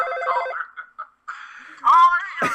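Telephone ringing for an incoming call during a podcast, a short electronic ring pattern, fairly loud, with people talking around it.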